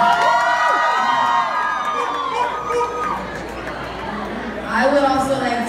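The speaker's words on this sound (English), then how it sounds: "So a round of applause to you guys." A crowd at a Rihanna ANTI album cover reveal claps and cheers, with high whoops and shouts rising over the applause, swelling again near the end.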